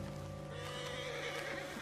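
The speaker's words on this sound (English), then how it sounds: "What's got this horse spooked, huh?" A horse in the Red Dead Redemption 2 video game whinnies and neighs in a short, clear burst over a steady game background, with faint hoof movement.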